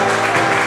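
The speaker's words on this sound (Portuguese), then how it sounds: "Pode aplaudir" Short burst of congregation applause during a Catholic sermon on the Virgin Mary, a dense, steady wash of clapping close and loud with no break, filling the whole moment.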